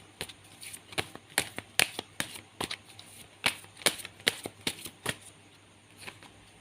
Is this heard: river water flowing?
no